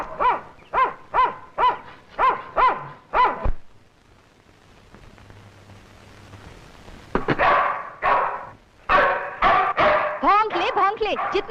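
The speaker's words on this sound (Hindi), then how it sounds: "भौंक ले, जितना जी चाहे भौंक ले।" A dog shut inside a room barks in a rapid run of loud, close yelps, falls quiet for a few seconds, then resumes with another burst of barks and higher whining yips.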